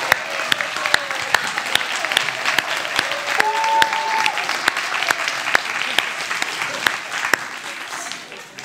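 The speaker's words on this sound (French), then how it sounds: "On peut se lever pour les applaudir." An audience at a talk on lasting marriage applauds couples married over 50 years, steady warm clapping from a crowd with occasional sharp claps standing out nearby and a voice speaking over it.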